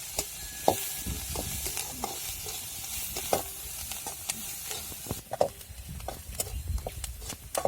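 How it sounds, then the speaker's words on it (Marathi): Finely chopped onion sautéing in a hot wok (kadhai) for okra curry, a steady sizzle broken by repeated scraping stirs and clanks of the spatula, close up with no talking. "कांदा तर आता मी एकदम मस्तपैकी परतून घेणार लाल लाल"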